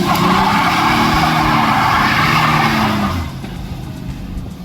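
A Ford Ranger 4x4 pickup with a 5-speed transmission pulls away, its engine and tyre noise loud and steady for about three seconds before easing back as it moves off, with no talk.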